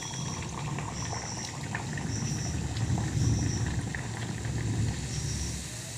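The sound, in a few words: luchi frying in hot ghee in a kadai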